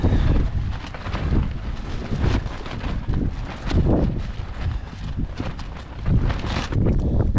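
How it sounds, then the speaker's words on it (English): Strong gusty wind on a coastal mountain roars steadily across the microphone, buffeting in broad low rumbles that swell and ease with no talking. "The wind is literally coming over here and sweeping over, and our tents are just lifting."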